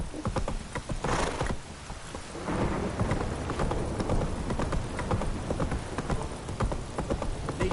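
Steady rain and rolling thunder fill a stormy scene in The Witcher 3: Wild Hunt, with hoof clip-clop from a horse running rhythmically through the continuous downpour.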